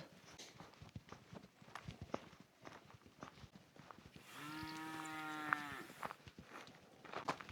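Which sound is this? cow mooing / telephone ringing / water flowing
cow mooing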